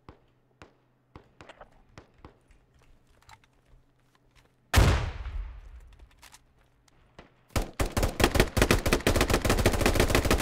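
Gunfire in a tactical squad shooter: faint scattered clicks give way to a loud close blast with a long decaying rumble, then a sustained rapid burst of automatic fire to the end.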